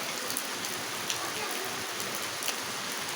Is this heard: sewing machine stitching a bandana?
no